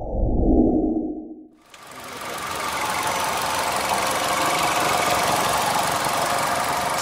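A 2016 Suzuki Ertiga with a manual gearbox starts up after a quiet moment, then its engine settles into a steady, close, moderately loud idle with a faint ticking knock running through it.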